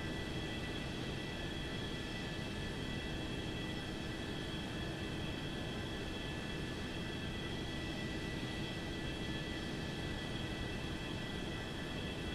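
Steady, unbroken broadband drone of an aircraft in the X-Plane 11 flight simulator, a FlyJSim 737-200 airliner, holding an even level throughout with no speech.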